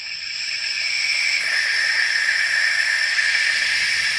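A vacuum filler pulling vacuum on the cooling system of a 2007 Mercedes S550, giving a steady, loud, airy hiss that holds constant throughout with no voices.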